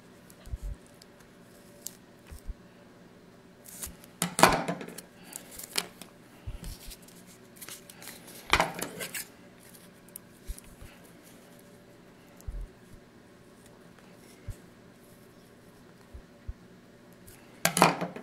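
Scissors cutting into a folded paper snowflake: sparse, close snips and crisp crunches, with a few louder cuts spaced several seconds apart and quiet handling between.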